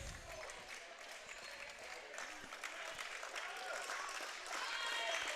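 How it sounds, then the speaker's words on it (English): Crowd at an NCCAA men's regional tournament basketball game applauding the starters as they leave late in a lopsided contest, a steady, sustained wash of clapping and cheering that swells slightly toward the end, with voices mixed in. "Crowd giving the starters appreciation for their efforts tonight."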